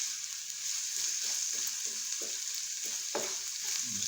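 Saltfish and vegetables sizzle steadily in a frying pan while a utensil tosses them in soft, repeated scraping strokes, close and fairly quiet, with no voices.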